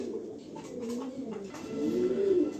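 A very light-coloured female racer pigeon coos close by, its low rolling calls building and growing louder toward the end.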